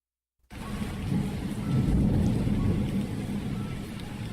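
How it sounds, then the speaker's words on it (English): Heavy rain pours down with a deep thunder rumble in a video game scene, starting suddenly after a brief silence and continuing as a dense, loud wash with no voices. "it's raining so hard that it's almost impossible to get a cab"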